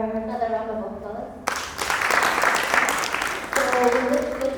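A speaker talks briefly at a youth mental health advocacy session before a burst of audience applause breaks in and sustains for about two seconds, then speech resumes over the fading claps.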